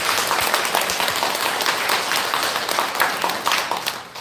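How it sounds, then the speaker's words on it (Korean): Warm applause from a church congregation after a pastor's sermon fills the space, a steady dense patter of many hands clapping nearby, continuous for several seconds with no talk over it. "한번 격려의 박수 한번 보여드립니다."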